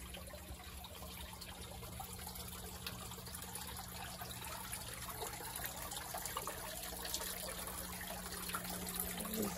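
Water from a small garden waterfall on a veranda trickles and splashes softly and steadily throughout, faint and constant, with a low steady hum underneath.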